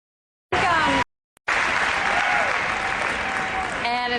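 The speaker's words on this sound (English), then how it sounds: "enthusiastic crowd here at the University of Texas" An enthusiastic crowd at a televised Democratic debate at the University of Texas applauds loudly. A short burst of clapping is followed by a brief break, then sustained heavy applause.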